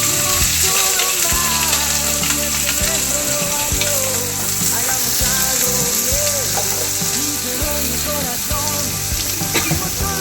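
Curry leaves, onions and green chillies frying in oil for mutton keema: a dense, loud, continuous sizzle with crackling bursts, heard alongside steady tonal background music throughout.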